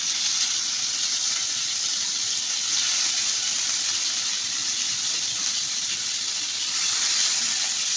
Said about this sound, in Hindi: इसमें हम चिकन फ्राई करेंगे पहले।